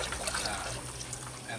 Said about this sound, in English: Now this is the last sieving here. I'm just pouring it through